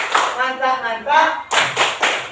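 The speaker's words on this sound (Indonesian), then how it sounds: "tepuk mantap untuk Naufal" A classroom audience applauds Naufal. Voices chant in unison at first, then gives way to a few loud, rhythmic group claps nearby.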